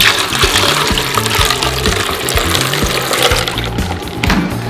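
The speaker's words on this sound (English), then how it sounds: "Pour in some milk." Milk pours from a container into a blender packed with ice for a white chocolate milkshake, a loud, steady, close gurgling stream lasting several seconds.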